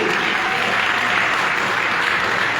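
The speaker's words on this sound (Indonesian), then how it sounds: "beri tepuk tangan sekali lagi buat Tuhan Yesus." Dense, steady applause from a congregation fills a church Christmas service, sustained and even throughout without any break.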